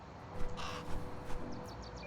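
A crow in the video game Little Kitty, Big City gives a few rough caws over steady game ambience, close and moderately loud, with no speech.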